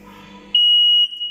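A conveyor-belt metal detector for bakery lines gives a single sharp, steady high-pitched alarm beep of about half a second as a 2.5 mm stainless steel test piece passes through, with no talk.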